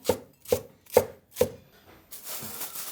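Four sharp knife chops on a board, evenly spaced about half a second apart, as garlic, ginger and scallion are cut for a stir-fried pork intestine dish, followed by softer scraping and rustling.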